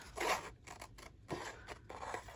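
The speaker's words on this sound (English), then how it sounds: "And yes, I'm using my big scissors." Big scissors cutting a paper image out for a collage journal, giving several crisp snipping and rustling strokes in an irregular rhythm, close and fairly quiet, with no talking.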